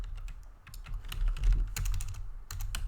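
Quick clattering keystrokes on a computer keyboard while JavaScript code is typed, an irregular run of close, crisp clicks with brief pauses, no voices.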